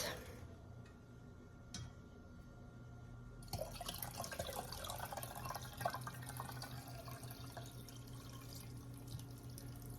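Homemade herbal iron syrup being poured and squeezed out, a faint close trickle and drip that turns into a steadier liquid stream partway through, with small ticks and handling noises.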